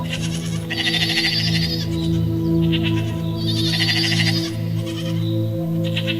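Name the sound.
goat bleating, story sound effect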